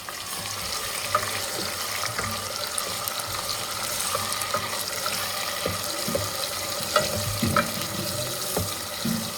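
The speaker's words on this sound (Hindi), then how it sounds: "टमाटर को मैंने अच्छे से भून लिया है" Chopped tomatoes frying with browned onions in a pan, giving a steady soft sizzle with occasional stirring clicks and scrapes, fairly faint and continuous, with no voices.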